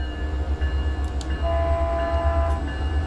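An MP36PH diesel locomotive in Train Simulator 2018 rumbles steadily as it starts on the Peninsula Corridor, a deep continuous engine drone with faint higher tones and brief horn-like notes over it.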